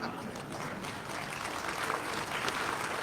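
A crowd claps along to singing at a Gopal Narayan Singh University campus event in Rohtas district, a dense, steady patter of many hands for a few seconds with voices faintly mixed in.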